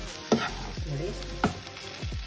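Bhindi (okra) fries in oil in a pan with a soft steady sizzle and a few sharp spoon scrapes and knocks, close up, with no talking.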